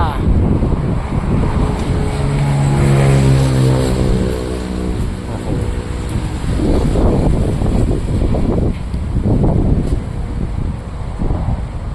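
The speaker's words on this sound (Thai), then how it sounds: "ลมแรงมากนะครับ" Strong wind gusts ahead of rain in Phichit, Thailand, bending a mango tree and buffeting a shopfront, roar loudly and continuously into the microphone with a low rumble and surging gusts throughout.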